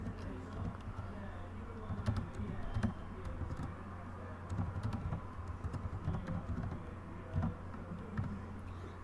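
A computer keyboard clatters steadily as Python code is typed, with quick, fairly quiet keystrokes in an uneven rhythm over a low, constant background hum.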